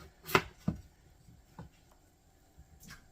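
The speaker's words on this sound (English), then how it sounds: "So I'm going to keep chopping these up" A few sharp knife chops land on potatoes on a cutting board, irregularly spaced, with quiet pauses between them.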